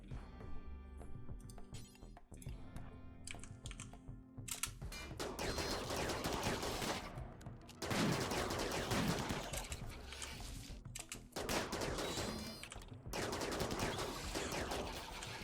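Rapid bursts of gunfire from a firing squad in Rimworld, loud crackling volleys that come in clusters with brief gaps between them, mixed with clattering impacts.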